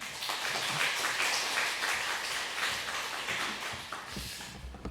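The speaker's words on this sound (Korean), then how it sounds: "박수로 환영하며" A church congregation at a Sunday afternoon men's mission devotion service applauds to welcome a visiting pastor, a dense, steady round of clapping that holds for several seconds before easing off.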